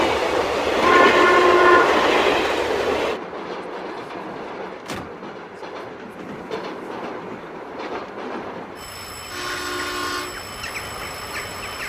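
Train at a station, loud rumbling railway cars with clickety-clack and sustained horn blasts at the start and again near the end, a quieter steady rolling rumble in between, with no talk.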